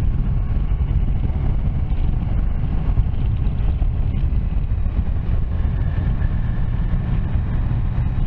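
Continuous heavy wind roar buffeting the microphone while riding a Triumph Tiger Sport motorcycle, a dense low rumble with steady engine drone beneath, no voices.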